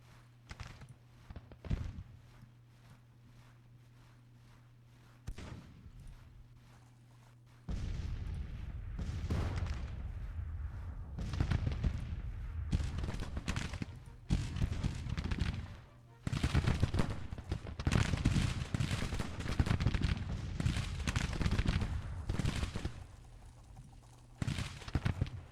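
Skirmishers trading musket fire with artillery support in Grand Tactician: The Civil War, an 1862 Bull Run battle, heard as dense, continuous crackling volleys and booms that swell loud after a quieter opening, with no talk.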